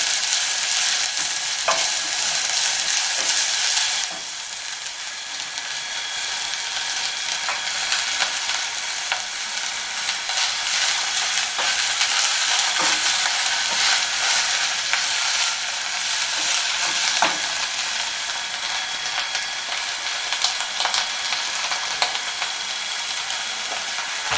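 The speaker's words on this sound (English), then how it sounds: "So let me add cabbage and stir evenly." Cabbage and onions fry in a pan during a beef and rice dish, giving a loud, continuous sizzling hiss, broken by occasional scraping stirs of a utensil, close up with no talk.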